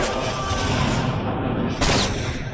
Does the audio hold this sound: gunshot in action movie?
yes